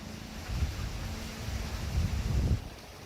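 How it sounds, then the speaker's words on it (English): Outdoor wind buffets the microphone in low, rumbling gusts that swell twice over a few seconds and then ease off. No one speaks. "Make the wind stop."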